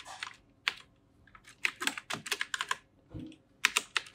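Computer keyboard typing during graphic design work: quick irregular bursts of crisp, close key clicks with short pauses between them, no talking.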